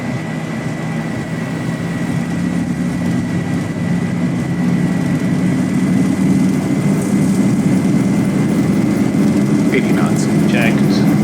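Boeing 737 engines spool to takeoff thrust in the X-Plane 11 flight simulator, a loud, steady jet roar with a low drone that grows slightly, with brief voices near the end.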